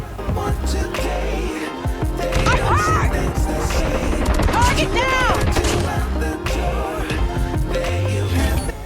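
TEC-9 submachine gun fire in Call of Duty Mobile, rapid dense bursts of shots with clanks and impacts over game sound and music, continuous and loud.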